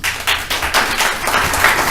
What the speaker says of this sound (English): Let's hold our applause, please.